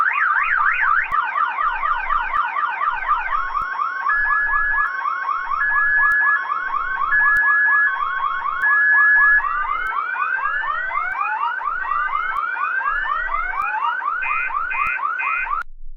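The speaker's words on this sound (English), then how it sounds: "I'm going to pull the fire alarm." A school fire alarm rings continuously and loudly, its rapid repeating warbling electronic tones sweeping up and down for the whole stretch, close and alone with no voices.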